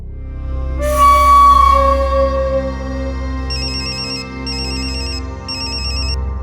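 A mobile phone ringtone plays loudly and close, a sustained synth melody followed by three short repeated electronic ring bursts.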